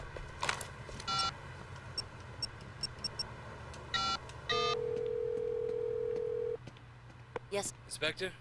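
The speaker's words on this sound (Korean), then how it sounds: "자 이제 탱 수사관한테 한번 전화를 해보자." A phone in Sleeping Dogs dials out: a series of short beeping tones, then one long steady tone, followed by more quick beeps, over a low constant hum.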